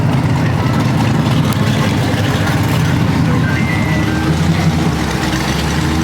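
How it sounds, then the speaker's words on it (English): A Mad Max-style van rumbles closer at a hot rod street cruise, its deep engine drone loud and continuous beneath surrounding traffic and crowd noise. "I got a Mad Max van coming at me"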